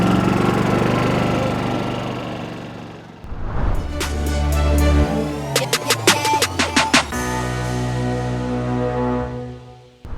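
A golf cart at a golf tournament pulls forward with a steady motor drone that dips briefly, then resumes with clattering and rattling bumps as it picks up speed; the sound is close, loud and carries no talk.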